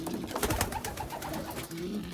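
Soft cooing of young pigeons, about a month and a half old, murmurs close by in a short burst, low bubbling calls repeating over faint background rustle inside a cage.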